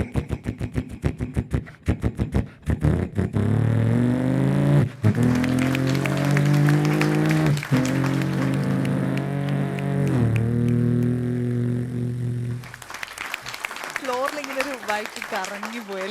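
A voice mimics racing motorbikes on a comedy stage: a loud, sustained engine drone that revs up and down in gliding pitch, with a few sharp clicks at the start.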